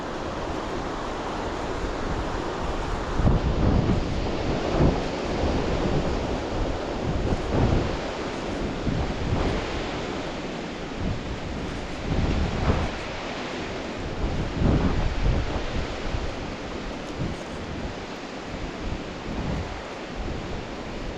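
Strong wind blows steadily outdoors as weather rolls in, a broad continuous roar with gusty swells throughout and no voices.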